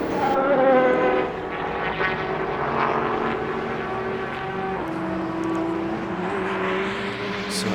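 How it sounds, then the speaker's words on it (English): An HPD race car engine at Sebring roars steadily at high revs, a constant droning whine that shifts slightly in pitch, with no talk over it. "You hear that engine, that HPD engine just roaring away."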